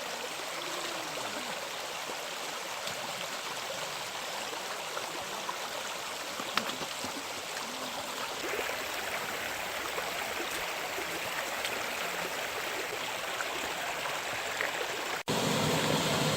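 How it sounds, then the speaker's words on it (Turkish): A small waterfall of clean, ice-cold water spills along a stream during a village nature walk, a steady broadband rush and splash that stays close and constant throughout with no talking. "Tertemiz bir su. Küçük bir şelale."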